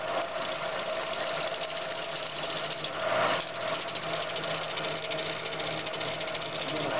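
A wood lathe spins steadily while a vase made from scraps is turned, a continuous mid-loud machine whir with a faint rattle running unbroken throughout.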